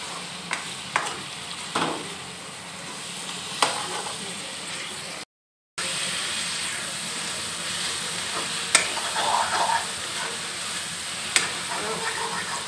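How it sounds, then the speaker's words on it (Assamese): Local chicken fries in a pan, cooked with rice flour for a home-style Assamese dish, with a steady close sizzle broken by stirring scrapes and clinks, plus a brief silent gap midway. "এতিয়া ভজা হৈছে, এতিয়া অকণমান পানী দিম।"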